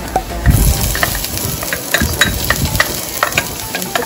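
Chopped onion fries in hot oil in a pan for truffle pasta, a steady close sizzle broken by clicks and scrapes as it is stirred.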